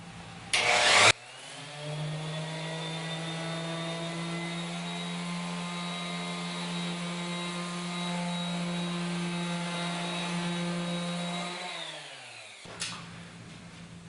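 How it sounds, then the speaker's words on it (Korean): An electric sander runs on wood, a steady loud motor whine with a droning hum held for about eleven seconds, starting and winding down, close up and without talk. "전동 샌더를 이용을 해서 목재를 연마 작업을 해줘야 되죠"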